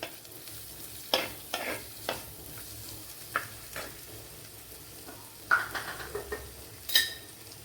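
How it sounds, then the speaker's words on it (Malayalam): Onions sautéing in a pan for a Kerala-style fish curry, a soft sizzle underneath intermittent stirring scrapes and clinks of a utensil against the pan, close up, no voices. "സവാള നല്ലതുപോലെ ഒന്ന് മൂപ്പിച്ചെടുക്കണം."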